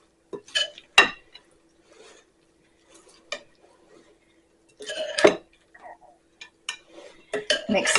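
A big spoon mixes a zesty cauliflower antipasto salad with dressing in a bowl, giving close, intermittent scraping and clinking strokes separated by short pauses.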